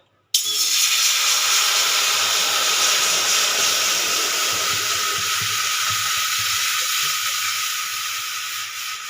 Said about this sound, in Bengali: এই কড়াইতে আমি এবার দিয়ে দেবো জল